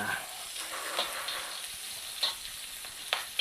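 Food fries in hot olive oil in a pan, a continuous moderate sizzle with occasional sharper spits and pops as it is stirred.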